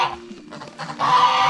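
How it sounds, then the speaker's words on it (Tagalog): Geese on a rural farm in Iloilo, Philippines, give several short, loud, nasal honks close by, with the calls running together into a longer squawking stretch toward the end. "may gansa pala sila dito"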